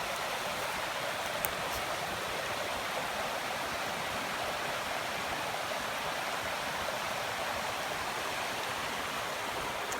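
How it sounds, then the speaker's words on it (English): A small garden waterfall cascades steadily into a backyard stream, giving a continuous, fairly close rush and splash of water that stays even throughout with no voices. "just wanted to show this is my little waterfall. It's quite pleasant the way it cascades."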